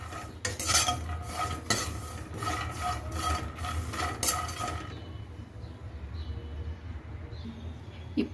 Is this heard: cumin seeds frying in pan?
yes